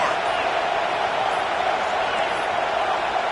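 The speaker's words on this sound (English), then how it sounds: "listen to this crowd roar" A football stadium crowd roars continuously while the defense has the opponent pinned back, a thick, sustained wall of cheering with no pause or swell, loud and enveloping from start to finish.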